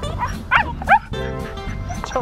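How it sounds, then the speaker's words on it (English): A small dog gives two sharp, close barks near the start, followed by a softer whining, voice-like sound that continues to the end. "He's got a big bark for a little dog."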